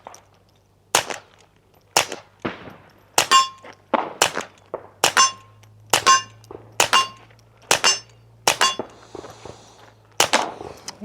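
Suppressed .22 rifle firing 36-grain rounds at about 1,000 feet per second through a Dead Air RXD22 Ti titanium suppressor outdoors at a range: about a dozen sharp, loud cracks with a metallic ring, spaced roughly a second apart over a faint hum.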